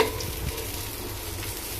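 Eggplant slices frying in a pan for a home-cooked khichuri meal, giving a steady close sizzle with occasional stirring scrapes and no voices.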